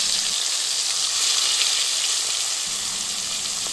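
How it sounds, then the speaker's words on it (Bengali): Hilsa fish tails frying in mustard oil in a hot pan, a loud and steady hissing sizzle heard up close throughout without voices. "গরম কড়াইয়ে সরিষার তেল দিয়ে তাতে ইলিশ মাছের লেজাগুলি একে একে দিয়ে উল্টে পাল্টে ভালোভাবে ভেজে নিতে হবে"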